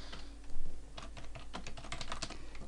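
Steady, fairly quiet typing on a computer keyboard while entering formulas in a spreadsheet, a continuous run of close, light key clicks with a few heavier taps.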